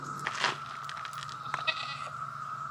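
A goat bleats a few times, nasal and wavering, close to the listener outdoors at Fort Mountain, with a steady low hum underneath.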